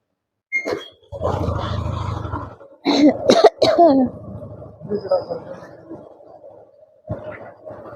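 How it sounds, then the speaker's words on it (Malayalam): A person coughs several times in harsh, raspy bursts, with strained breathing and some vocal sounds between the fits. "കുത്തി കുത്തി ചുമ വരുന്നു"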